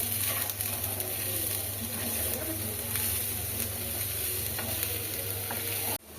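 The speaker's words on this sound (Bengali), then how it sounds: "এবার চিনিটা ঢেলে দিচ্ছে" Sugar poured into a hot pan while home-made Bengali pitha pancakes cook gives a dense, steady sizzle with faint stirring scrapes, close and continuous, with no voices.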